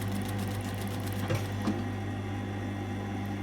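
A sewing machine runs continuously and close, backstitching at the corners of a double jetted pocket, with a steady whirring hum and a couple of faint knocks.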